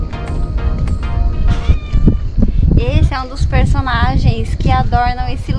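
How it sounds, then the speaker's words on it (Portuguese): Several cats meow repeatedly among the ancient ruins of Ephesus in Turkey, loud and close, with a person talking over and between the calls. "vários gatos por aqui."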